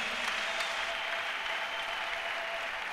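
A church congregation applauding in praise during a French-language sermon, a steady, even wash of clapping that holds at a constant moderate level throughout, with no voice on top.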